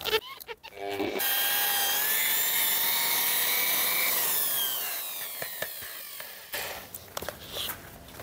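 A power sander works car windshield glass with a finer grit abrasive, a steady loud grinding whir that holds for several seconds, then drops off into intermittent scrapes and clatter, with faint talk in between.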